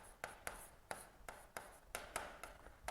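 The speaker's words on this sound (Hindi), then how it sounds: "एक क्वेश्चन लिख देता हूँ" A pen writes out a number-system maths question on paper or a board, making quiet, rhythmic scratchy strokes with sharp starts, roughly two or three per second, heard alone.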